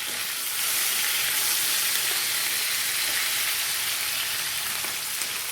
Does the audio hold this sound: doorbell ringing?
no